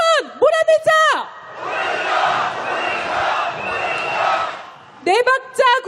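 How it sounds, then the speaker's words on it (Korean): A large outdoor crowd at a rainy candlelight march calling for a president's impeachment roars a slogan in unison, a broad sustained mass of voices between short bursts from a single amplified leader. "구호 외치겠습니다"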